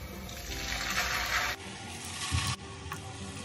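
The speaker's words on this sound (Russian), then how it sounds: "Выкладываем котлеты на сковородку." Meat cutlets laid into a well-heated frying pan with vegetable oil give a steady, loud broadband sizzle that briefly drops and surges, with no talking.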